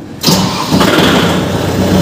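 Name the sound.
Kubota MU5502 tractor engine starting with key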